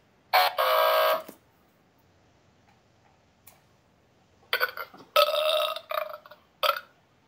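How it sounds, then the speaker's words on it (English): One long, loud burp, then a pause, then several shorter burps in quick succession, close and clear. "that really does sound like you burping"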